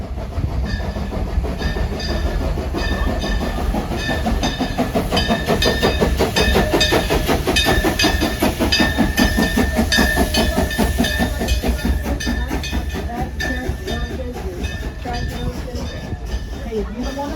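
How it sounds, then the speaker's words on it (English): Frisco sing-along steam train #14 rolling into the depot on a cold November day, with a steady loud rumble and rhythmic clickety-clack of wheels on rails and a faint hiss throughout, as people talk nearby. "This train does have a tendency to jerk and roll around a little as we enter the depot and set the brakes."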